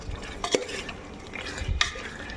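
Chicken curry being stirred in a pan, with a few scraping strokes and soft clinks of the utensil against the metal, fairly quiet and close.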